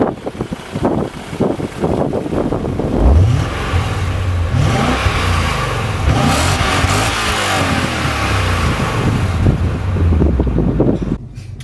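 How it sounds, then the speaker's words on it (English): A BMW M5 E39 with a naturally aspirated V8 revs repeatedly, rising and falling engine pitch sweeps loud and close, then a sustained high roar with wind buffeting over the microphone. "having a naturally aspirated V8, obviously one of the best things is the noise."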